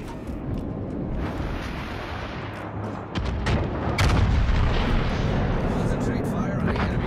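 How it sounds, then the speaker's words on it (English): Naval artillery from a Yamato battleship in World of Warships: Legends thunders in a rolling barrage of deep booms that swell louder partway through and keep rumbling continuously. "Concentrate fire on the designated target."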